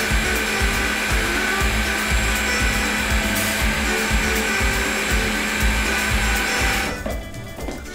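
A kitchen blender blitzes a mixture with butter in a loud, continuous whirring roar at close range, the motor pitch wavering slightly before it winds down near the end.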